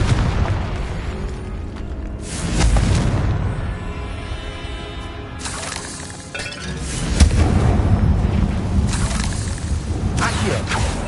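Confringo fire spell blasts in the Hogwarts Legacy video game burst in loud booming explosions, several heavy detonations with crackling debris spread across the clip, one after another.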